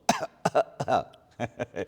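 A man with a cold gives about five short, harsh coughs and throat-clearing bursts in quick succession, close and fairly loud, with brief pauses between them.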